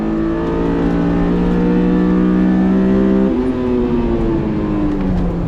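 A stock Honda S2000 engine screams at high revs on a race track with a VTEC wail, sustained and loud, the pitch dropping briefly at a gear change before climbing on.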